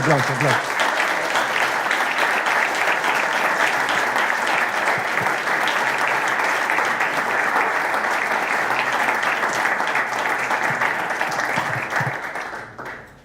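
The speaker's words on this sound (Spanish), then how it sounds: "Obviamente, aplausos, sí, aplausos." Sustained audience applause at a political commemoration talk on Argentine geopolitics, dense and steady for about twelve seconds before tapering off at the end; no talk over it.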